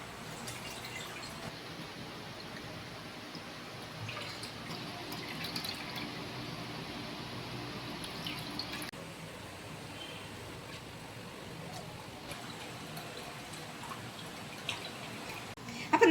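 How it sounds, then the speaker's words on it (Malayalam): Beetroot wine being strained through a filter, a steady soft trickle and patter of liquid running through for the whole stretch, with a brief louder splash near the end and no talk. "ഇങ്ങനെ നന്നായിട്ട് ഫിൽട്ടർ ചെയ്തെടുക്കണം"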